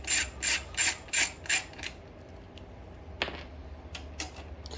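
A ratchet loosening bolts on a Generac RS8000E generator: five quick rhythmic bursts of clicking, then quieter scattered clicks, close and alone without talk.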